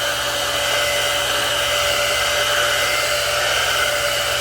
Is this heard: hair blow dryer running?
yes